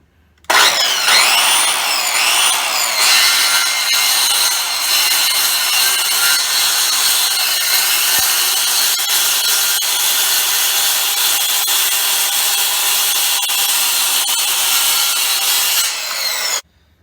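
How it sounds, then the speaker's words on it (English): A notch is cut into a wooden beehive part, producing a loud, continuous harsh cutting and rubbing noise that runs steadily for about fifteen seconds, then stops abruptly. "we're going to try to cut the second notch here"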